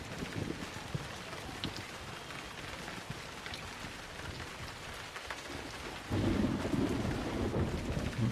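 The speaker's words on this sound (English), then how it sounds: "Lightning strike." Thunder and steady rain from a lightning strike in the video game Emergency 4, a continuous hiss of rainfall with low rumbling, then a sudden louder, heavier rumble rolling in near the end.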